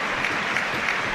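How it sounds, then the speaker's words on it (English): A football stadium crowd at a Hearts vs Kilmarnock match applauds substituted player Borchgrevink as he comes off, a steady, dense wash of clapping that holds evenly throughout the short moment. "it's Borchgrevink, I think, who's coming off to a nice round of applause"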